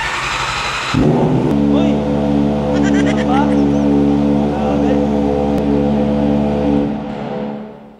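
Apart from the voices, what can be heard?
Kawasaki ZX4RR motorcycle engine starting with loud exhaust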